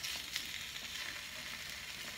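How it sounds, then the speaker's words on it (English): Sausages searing in a hot pan for a seafood gumbo, a steady bright sizzle and crackle with small spits and pops, close and continuous with no talking. "brown my sausages a little bit. Before I put them in there, I want them to have sort of like a"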